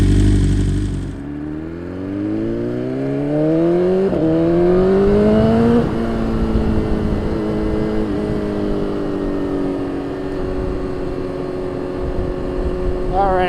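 A BMW S1000RR motorcycle engine is started and revved up and down repeatedly, loud and close, with rising and falling pitch sweeps before settling into a steady idle.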